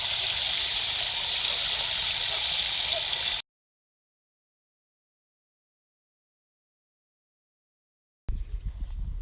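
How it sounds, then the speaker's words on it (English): Tap water from a garden hose pours into the water tray of a bullet smoker, a steady close gushing splash that stops abruptly and returns briefly at the end. "I'm adding water to the tray. Just plain hose tap water"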